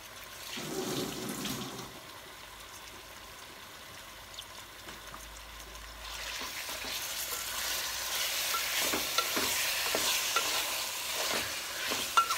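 Marinated prawns are stirred into a pot and fry with a soft, spreading sizzle, with some wet scraping as they are mixed in and a brief louder clatter near the start.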